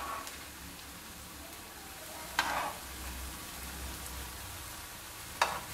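Semolina and potato snack deep frying in oil over a low flame, a soft steady sizzle and bubbling throughout with two brief sharper crackles, no voices.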